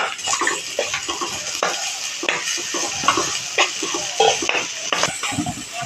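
Masala and chili powder are stirred in a cooking pot. A spoon scrapes and clinks against the metal in repeated strokes, close and fairly loud, over a faint sizzle.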